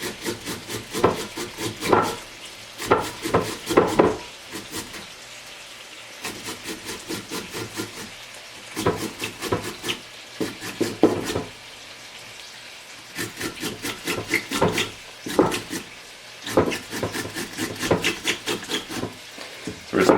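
A cucumber is grated on a hand grater in rhythmic runs of quick, raspy scraping strokes with short pauses between them. The grating is for spiced turkey meatball pitas and sounds close and moderately loud.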